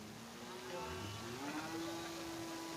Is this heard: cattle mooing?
yes